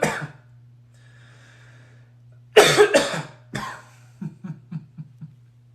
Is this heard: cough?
yes